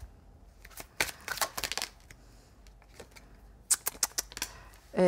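Playing cards rustle and flick as one is drawn from a deck, in bursts of quick faint snaps and slides close by, with pauses between them.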